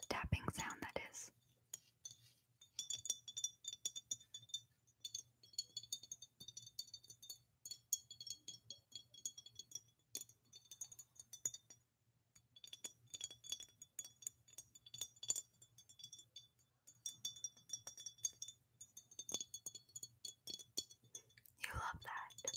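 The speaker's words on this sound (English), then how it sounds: "I don't know how well of a glass tapping sound that is." Glass containers holding liquid are tapped in a quick, delicate series of clinks, with short gaps between bursts, close and quiet, under soft whispering.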